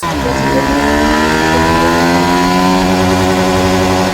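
A Yamaha XSR 155 motorcycle accelerates loudly and close up through its gears, its buzzing engine note rising steadily, dropping slightly at a shift and then climbing again without pause.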